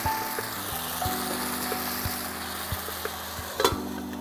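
A pan of Chettinad chicken curry simmers and sizzles quietly up close, soft bubbling with small pops and clicks, no voices.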